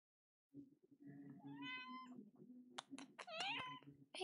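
A pet cat meows indoors, several drawn-out, rising meows close to the listener, with faint low background noise and no clear speech.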